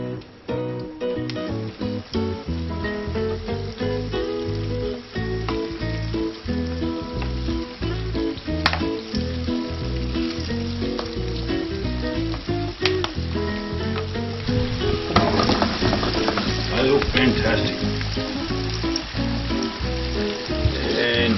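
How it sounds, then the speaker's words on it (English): Loud, continuous sizzling of pink snapper fish frying in hot olive oil, crackling and spitting steadily throughout with no talking. "I've got the frying pan here with olive oil"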